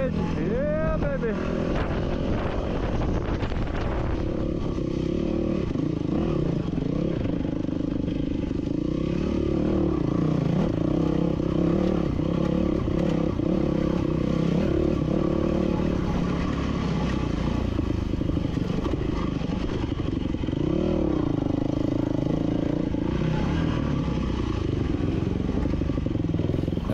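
A dirt bike, ridden with a blown fork seal on a single-track trail along Warner Ridge, drones continuously with its engine rising and falling, with clattering and scraping over rough ground and a voice talking at times.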